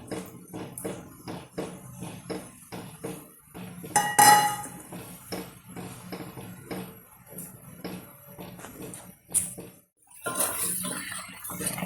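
Tapioca halwa with jaggery is stirred in a pan, producing quick, irregular metallic clinks and scrapes of a utensil against the pan, close and fairly quiet, with a brief louder clatter partway through.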